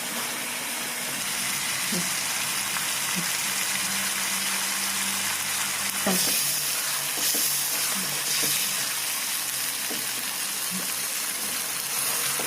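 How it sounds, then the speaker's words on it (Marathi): Masala paste for a soybean chunk gravy frying in oil over a medium flame, with a steady low sizzle running throughout and occasional soft scrapes and knocks of a stirring spoon in the pan. "मीडियम फ्लेमवर आपण हलवत राहू जोपर्यंत त्याचं तेल सुटत नाही।"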